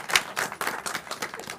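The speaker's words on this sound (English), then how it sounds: "We're going to clap to that, too." An audience claps in irregular bursts at a festival announcement event, several uneven waves of hand clapping rising and fading over a moment, near and fairly loud with no voices.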